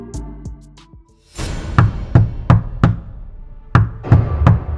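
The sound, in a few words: knock at a motel room door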